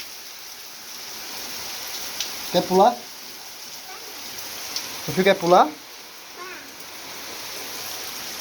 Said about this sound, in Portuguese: Vem aqui pro meu filho ver a chuva.